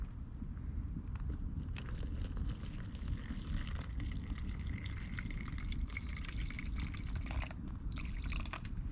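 Water poured from a bottle into a pancake-mix shaker of chocolate chip pancake batter at a bushcraft cabin campsite, a steady close liquid trickle and splash running throughout with faint clatter, no talking.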